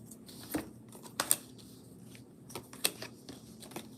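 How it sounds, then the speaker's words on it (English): Tarot cards dropping and being handled during a live reading: scattered soft slaps and quick papery flicks, a few sharper card hits standing out over a quiet room. "dropping cards everywhere"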